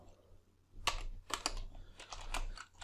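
Close computer keyboard typing, a few distinct keystroke clusters in uneven bursts over a low steady hum, moderately quiet, with no talking.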